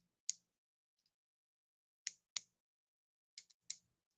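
The lever on a pair of hair clippers is flicked, giving sharp, quiet clicks, some single and some in quick pairs, separated by silence.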